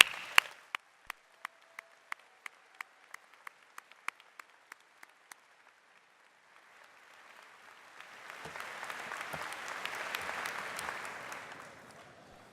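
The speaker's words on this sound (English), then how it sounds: "I think we owe them a big round of applause" At a university convocation ceremony, a series of sharp, evenly spaced clicks or taps gives way to a swelling wash of crowd applause for graduates that builds and then fades, heard from a distance.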